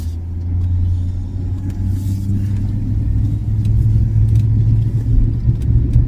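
Old Blue's engine, a car taken out for a drive, rumbles low and steady from inside the vehicle, with a continuous road and motor drone.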